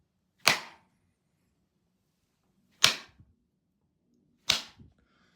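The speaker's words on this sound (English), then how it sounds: "Really loud, slapping sounds as it caresses the succulent flesh" Three loud, sharp slaps on flesh, spaced a couple of seconds apart and each fading quickly, in an otherwise quiet room.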